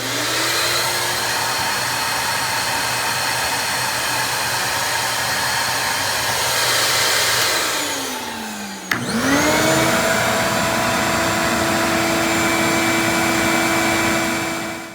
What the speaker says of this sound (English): I included a short clip here, just so you can get a rough idea of how much louder the larger 5 horsepower vacuums are